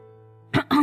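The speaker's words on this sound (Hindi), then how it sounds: "सिद्धार्थ ने उसके पास आते हुए उसे ऊपर से नीचे तक देखा और अपना गला साफ करते हुए बोला" A short, close throat clearing in two quick rough bursts, following a brief low hum.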